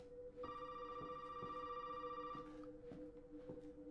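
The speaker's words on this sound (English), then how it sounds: "Definite phone ringing." Telephone ringing in the video game Resident Evil 7: a steady electronic ring with a bright tone holds for about two seconds, then cuts off, over a low continuous hum and faint rhythmic thuds.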